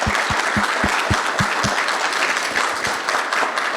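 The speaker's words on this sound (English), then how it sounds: "I think we should give the panelists a round of applause" Audience applause for panelists closing a veterans expo panel in Florida, a steady wash of many hands clapping throughout, fairly loud and close, with no talk over it.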